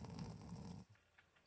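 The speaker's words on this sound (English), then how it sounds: "Stop snoring!" Loud, close snoring with one deep rattling inhale that stops abruptly, followed by quiet breathing and faint rustle.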